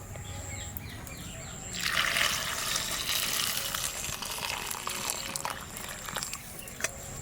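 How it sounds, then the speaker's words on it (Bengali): Olives washed in a bowl of hot water, a faint splashing and trickling that swells midway and then continues softly, with light background noise and brief chirps. "এই গরম জলের মধ্যে এই জলপাই দিয়ে একটু ধুয়ে নেবো"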